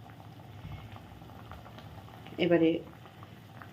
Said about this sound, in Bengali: এই দেখো ঝোলটা ফুটে উঠেছে